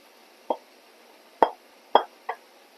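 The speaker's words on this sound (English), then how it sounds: "We're going to add in our aromatics. We're going to put those back in." Aromatics drop into a pot of homemade spaghetti meat sauce with four soft, wet plops spaced unevenly over a few seconds, close and fairly quiet.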